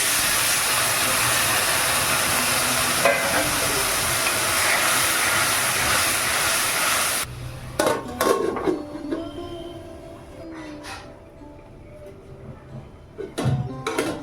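Water poured into a pan of egg curry bursts into a loud, broad hissing sizzle that cuts off abruptly midway, followed by quieter clatters and bubbling.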